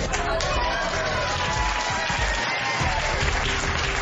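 A gathering of Americans for Prosperity conservatives claps after the United States loses the Olympic bid, a steady crowd applause heard at moderate distance with a voice talking over it.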